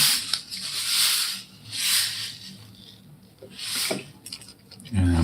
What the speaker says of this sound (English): This is stainless steel shot in here. It's 1 millimeter shot.